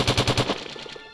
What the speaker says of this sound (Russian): это землетрясение, взрыв